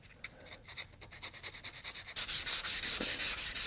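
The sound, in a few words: sanding wooden box edges with 320 grit sandpaper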